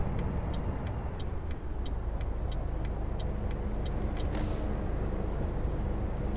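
An idling truck in American Truck Simulator gives a steady row of warning beeps over a low engine drone, then one sharp burst of air hiss as the parking brake sets.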